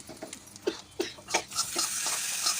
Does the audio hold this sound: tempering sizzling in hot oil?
yes